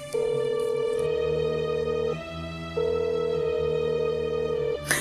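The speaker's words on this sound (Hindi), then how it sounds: "रिंग तो जा रही है पर उठा नहीं रहा है।" An outgoing phone call rings without being answered: a steady electronic ringback tone sounds twice, with a short gap between the rings.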